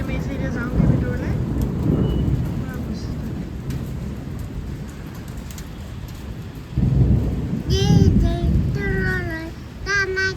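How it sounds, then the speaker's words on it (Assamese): Thunder rumbles low and heavy through steady rain during a storm, with two strong rolls under the downpour and a voice speaking briefly late on. "বৰষুণ বিজুলী মাৰিছে"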